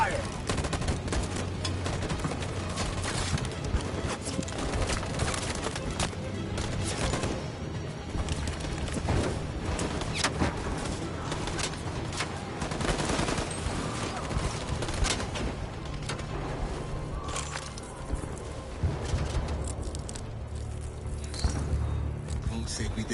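A volley of video-game gunfire crackles through a scene in Sentient Toaster Simulator, with dense, overlapping shots rattling on steadily for many seconds while voices speak over the din.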